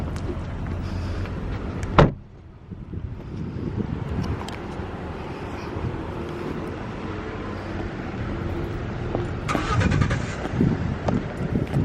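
Car traffic in a busy parking area outside a Fresh Market store, a steady wash of engine and road noise with a sharp knock like a door near the start and louder passing vehicles toward the end.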